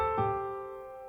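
One piano note in a blues scale, the high C tonic pressed and held, ringing clearly and slowly decaying on its own with no voices.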